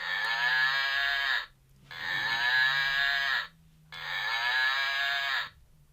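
A fluffy plush toy cow with horns plays three loud electronic moos in a row, each about a second and a half long, separated by short silent gaps.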